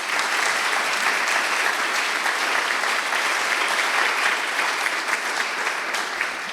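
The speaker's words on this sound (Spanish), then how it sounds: "Un aplauso para ella." Audience applause for a speaker at a panel discussion, a steady, dense clapping from many hands that holds at an even level for the whole stretch.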